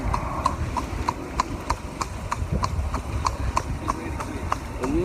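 A horse on a slow half-hour walk at a horse farm: steady, evenly spaced hoofbeats clip-clop in a regular rhythm, fairly close, over a low rumbling background.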